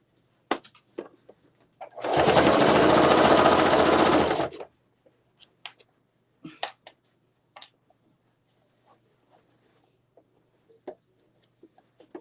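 A sewing machine stitches a zipper tote bag in one loud continuous run of about two and a half seconds, followed by scattered small clicks and handling noises.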